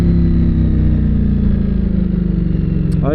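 A Ducati Panigale V4S motorcycle running the T800 up map accelerates hard. The engine roar stays loud and close throughout, with the pitch sweeping as it revs, and a brief sharp sound at the very end.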